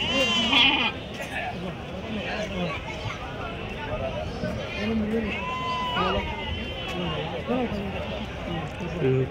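Sheep and goats bleat repeatedly amid a busy crowd at the weekly Angallu livestock market, with people chattering and talking throughout in a noisy outdoor setting.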